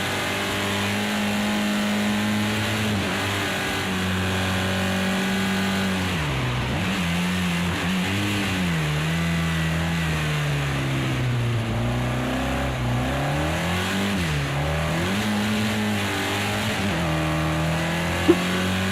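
A front-wheel-drive race car engine in Project Cars 2 drones steadily at high revs, pitch dipping and climbing through gear changes and corners, loud and continuous for the whole stretch.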